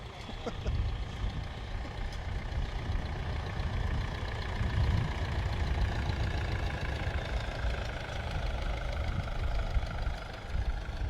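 A Nuffield tractor engine rumbles steadily at a moderate distance as it crosses a field, a continuous low chugging drone with no clear change in pace.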